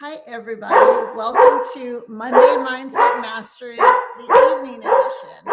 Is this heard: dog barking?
yes